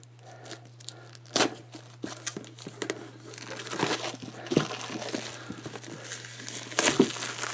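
Shrink wrap peeled and torn off a Sentinels of the Multiverse board game box, close crinkling and crackling bursts with sharp tearing pops over a low steady hum, no voices.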